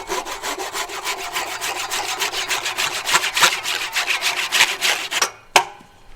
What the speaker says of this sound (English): and I'm going to cut the handle off.